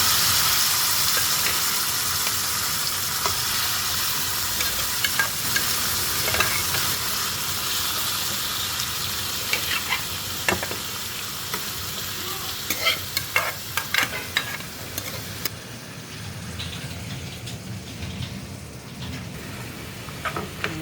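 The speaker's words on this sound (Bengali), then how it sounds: "খোসা সহ মিষ্টি কুমড়া একটু ভাজা ভাজা করে নেব" Pumpkin pieces with the skin on and boiled prawns fry in oil while being stirred, giving a steady close sizzle with frequent scraping and clatter from the stirring throughout, and no talking.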